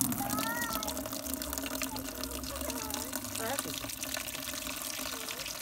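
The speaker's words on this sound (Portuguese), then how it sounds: "Aqui estou a encher água para fazer banho" Water runs from a tap to fill a bath in Mozambique, a steady close rushing splash, while someone talks over it.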